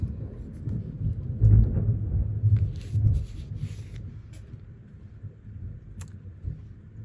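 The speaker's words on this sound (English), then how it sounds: "You hear the thunder?" Low thunder rumbles during a storm, a deep rolling swell that peaks early then fades, with light rain patter and faint clicks over quiet background.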